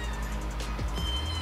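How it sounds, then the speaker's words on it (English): A house cat meows loudly and close, two or three drawn-out calls over a steady low hum indoors, with no talk. "Sorry about the cat."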